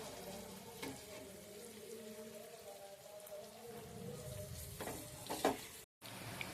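Eggs sizzle steadily in a hot pan after being flipped, a soft continuous frying hiss with faint crackles and a brief utensil stir, quiet and close with no talk.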